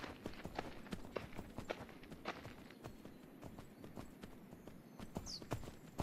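Horse hooves clip-clop at a steady walking rhythm in the video game Myth of Empires, close and fairly loud, with continuous gallop-like patter under light background sound.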